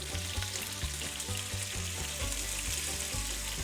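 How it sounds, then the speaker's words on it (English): Pork ribs browning in hot vegetable oil in a pan give a steady, loud sizzle and crackle throughout, with a low rhythmic pulse of music underneath and no talking. "After your oil is hot, put your ribs in the pan and cook them until brown on all sides"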